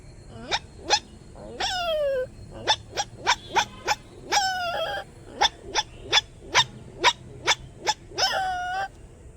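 A person mimics a puppy with a rapid string of high, short yips and a few longer whining yelps, close up and fairly quiet.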